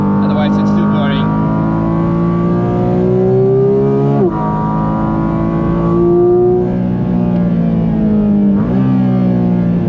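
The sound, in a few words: Porsche GT4 RS engine revving on the Nürburgring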